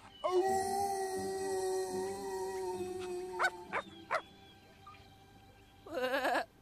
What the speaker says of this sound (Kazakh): Қане, ұлышы бұлай.